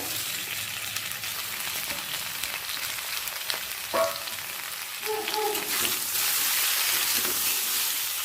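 Elephant apple (chalta) pieces frying in oil with panch phoron and a dried red chilli: steady close sizzling hiss throughout, with a couple of brief utensil scrapes and clinks and the frying swelling louder near the end.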